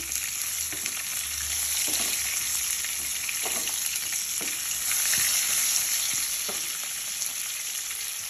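Tomatoes sizzle steadily in hot oil in a pan for tomato chutney, a continuous frying hiss broken by a few soft stirring clicks and scrapes, with no voices.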